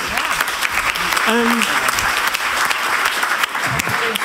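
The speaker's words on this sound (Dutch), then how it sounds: "Geef ze een warm applaus." Audience applause at an economics debate on the labour market, dense continuous clapping filling the room for several seconds, with a few spoken words and voices over it.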